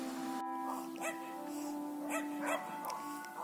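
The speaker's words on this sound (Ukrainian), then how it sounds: "Одні собаки прив'язані. Так і гавкають." Tied-up dogs at a rural farmstead bark in repeated, moderately distant yaps with short pauses, over a steady low background hum.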